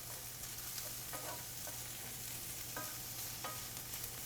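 Onions and garlic scapes fry in a pan over medium-high heat with a steady, quiet sizzle and a few soft scraping stirs.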